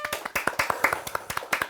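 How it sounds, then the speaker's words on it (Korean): Several people clap in uneven, sharp bursts, a short round of close hand claps with no talking over it. "박수"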